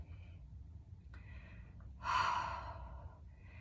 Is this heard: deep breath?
yes